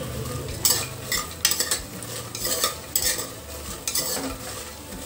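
Phool makhana lotus seeds frying in a pan for moong dal payasam, with close, brisk stirring scrapes and rattles against the metal at irregular intervals over a soft continuous sizzle.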